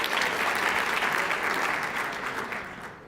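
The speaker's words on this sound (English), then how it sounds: "I'm really pleased that you applauded that" An audience at a recognition dinner applauds steadily, a dense wash of clapping from many hands that holds strong and then tapers off slightly at the end.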